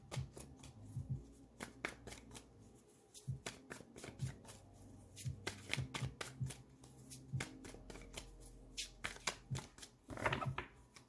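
Tarot cards shuffled by hand close up, with soft riffling and slapping bursts in an irregular rhythm, fairly quiet overall, plus occasional faint background sounds between the shuffles.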